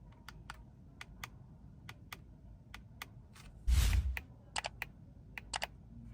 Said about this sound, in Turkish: Tuş hissiyatlarına biraz bakalım. Seslerini sizler de duyun istiyorum.